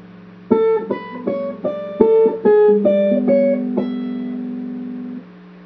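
Guitar playing part of the melody from the Elfen Lied opening, clean plucked single notes stepping up and down the upper strings at a moderate pace, the final note left to ring out and fade.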